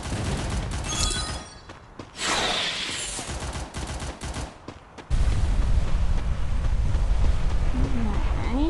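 Gunfire in the mobile battle-royale game Free Fire, a sniper-like gun, with bursts of shots and booms at the start, then a sustained loud rumble of game effects in the second half.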